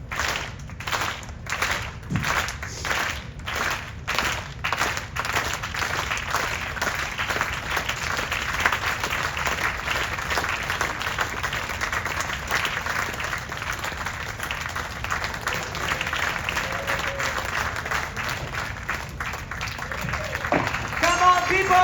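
A theater audience claps in time to a host's beat, rhythmic claps at first, then merging into sustained, dense applause that fills the room.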